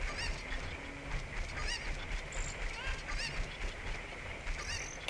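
Cucco chickens clucking and squawking in the video game Zelda: Ocarina of Time, repeated bird calls over a dense, busy game background throughout.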